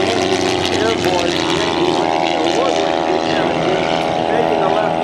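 Boeing B-17G bomber 'Yankee Lady' flying overhead at the 2012 Cleveland National Air Show, its propeller engines producing a loud, steady, droning roar that fills the whole stretch without letup.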